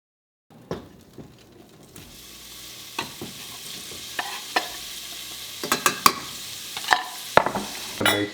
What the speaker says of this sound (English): get the bacon on and get the water boiling for the pasta